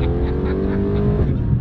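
Car driving fast along a street, a loud steady engine roar that stays close throughout the short pass, with no distinct gear changes.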